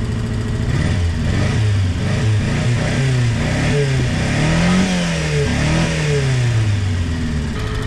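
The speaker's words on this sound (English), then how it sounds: "I'll give it a couple revs and leave my camera here." A Honda Beat kei car engine is revved several times from idle, each rise and fall in pitch clearly audible up close, with a steady mechanical drone between blips and no talking.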